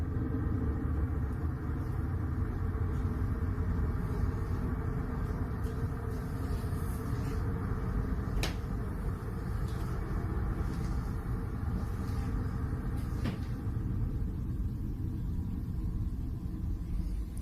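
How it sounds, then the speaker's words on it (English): A car passes outside the house as a steady, low rumble that fills the whole stretch, with a couple of faint sharp clicks and no voices. "There's a car going by."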